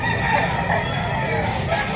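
At a gamefowl market, a rooster crow rings out amid a dense chorus of clucking and crowing birds nearby, steady and loud across the short moment, with a person talking.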